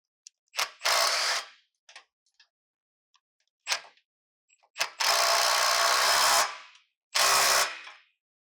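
A ratchet snugs bumper bracket bolts on a Lexus GX 460, heard in loud bursts of rapid clicking, some about a second long and one stretching about two seconds, separated by short taps and quiet gaps.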